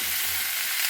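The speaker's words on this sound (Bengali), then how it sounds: "একটু সব সবজিগুলো তেলের সাথে মিশিয়ে নিয়ে লবণ দিয়ে নেব।" Vegetables are stirred through hot oil in a pan for daliya. A steady, close sizzle and crackle of frying fills the moment with no talk.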